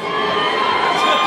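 A large concert crowd at a Monster Tour show cheers and shouts in a steady, dense roar of many voices. The sound is loud and continuous and stays at the same level throughout.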